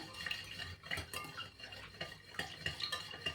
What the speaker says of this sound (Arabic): هنحط فيها السكر بس علشان يدوب معانا، ونديها تقليبه كده